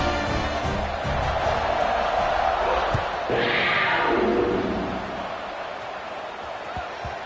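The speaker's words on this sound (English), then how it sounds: "this crowd is feeling themselves after that last drive" Football stadium crowd roaring during a kickoff at a Cincinnati at Kentucky scrimmage, a dense, loud wash of cheering that swells midway and then settles, with scattered thuds and shouts.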